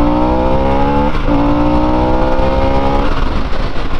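A Harley-Davidson Sportster S motorcycle accelerates hard, its engine note loud and close as the pitch climbs steadily, drops briefly at a gear change, then rises again.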